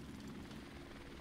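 Helicopter rotor chop and engine drone in Call of Duty: Modern Warfare Remastered during a Domination match, a steady loud thrum holding throughout without pause.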